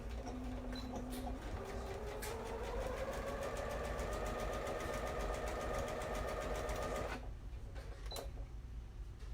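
A sewing machine stitching fabric for track pants runs steadily for about seven seconds with a whirring, rhythmic motor hum, then stops, leaving a few faint clicks.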